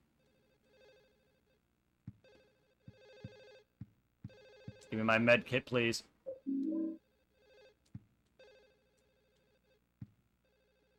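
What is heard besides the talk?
phone ringing in video game Silent Hill 4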